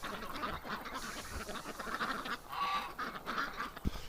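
Ducks on frigid winter water, with steam rising off the surface, give faint, scattered honks and quacks within a wash of distant outdoor noise.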